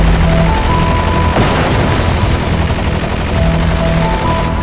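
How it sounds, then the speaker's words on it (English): Bursts of machine gun fire from a combat scene play loud and dense over a constant roar, with a sharp crack near the middle. "Accurate machine gun fire."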